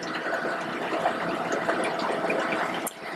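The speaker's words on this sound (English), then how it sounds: "Let's pump it in the formalin." A Tissue-Tek VIP 2000 Model 4618 tissue processor pumping formalin into its chamber, giving a steady, close liquid rush and gurgling bubbling with a constant pump hum throughout.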